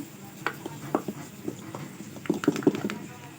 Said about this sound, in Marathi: आता याला मिक्स करून घ्यायचं आहे आपल्याला.